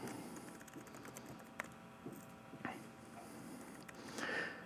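Soft computer keyboard taps come in a sparse, irregular series of light clicks, close but quiet, with a few sharper single keystrokes.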